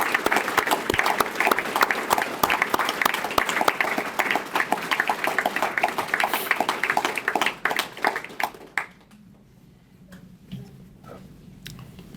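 An audience at a rodeo hall of fame ceremony applauds loudly and densely for about eight seconds, then the clapping thins to a few scattered claps.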